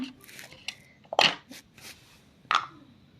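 Homemade star fruit (korodoi) jelly being cut in a kitchen, heard as a few soft, close knife taps and clicks against a plate or board, with brief quiet gaps between strokes.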